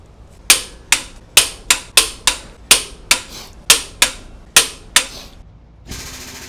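A Makita impact wrench hammers garbage-truck lug nuts loose in about a dozen sharp, loud, evenly spaced bursts. A softer whir follows at the end.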